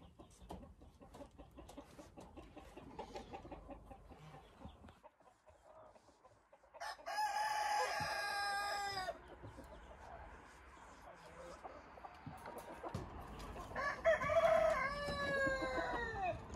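A rooster on a Korean farm crows twice, loud and close. Each drawn-out cock-a-doodle-doo follows a stretch of low talking and murmuring, with other chickens clucking around it.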